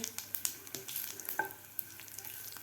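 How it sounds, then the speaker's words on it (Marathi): Whole spices, including cardamom and star anise, frying in oil in a pan, with a soft steady sizzle and quick crackling pops, heard faint and close with no voices. "आपले मसाले फ्राय झालेले आहेत"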